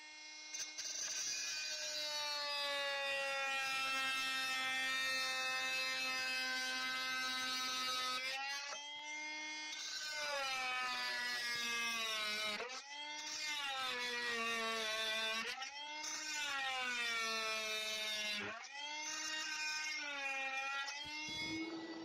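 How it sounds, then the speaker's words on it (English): An oscillating multi-tool buzzes in long, sustained bursts with brief pauses, its pitch shifting as it cuts through trim, close and fairly loud. "This multi-tool is indispensable in this case."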